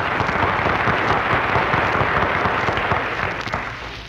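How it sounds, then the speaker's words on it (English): Studio audience applause at a radio comedy broadcast, a dense, steady wash of clapping that holds loud and fades slightly toward the end. "That applause was for me."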